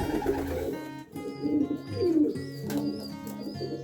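Pigeons coo in low, repeated rolling calls in a pigeon loft, several birds close by, with brief chirps and fluttery movement in the background.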